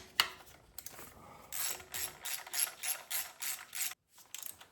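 A ratchet tightens a 10mm coil pack bolt on a 2013–2015 Toyota RAV4, with a series of close, rhythmic clicking strokes and short pauses between them, heard alone.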